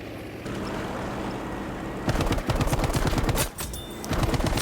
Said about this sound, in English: Guy's shooting at me again.